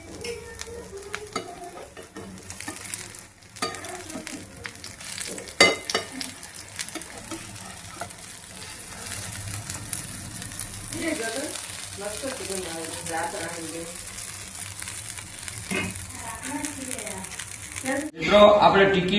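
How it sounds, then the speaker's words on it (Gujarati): Potato tikki patties frying in oil on a flat griddle, a continuous close sizzle with occasional scraping and turning, while a voice speaks over it at times. "એક તવી લેવાની, એની અંદર તેલ નાખી અને બધી ટિક્કી તળી લેવાની."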